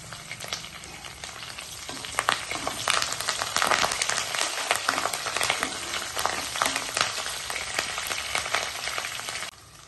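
Tempering spices and curry leaves frying in hot oil, a dense close sizzle with crackling pops throughout, ending abruptly.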